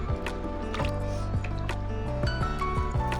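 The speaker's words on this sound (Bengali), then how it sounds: "এবার দিয়ে দেবো 2 কাপ জল।" Two cups of water poured into a pan of simmering chicken masala for a restaurant-style murgh masallam, a steady liquid pour and splash under continuous background music.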